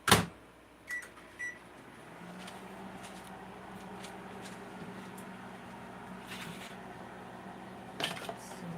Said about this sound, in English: I'm going to microwave that real quick.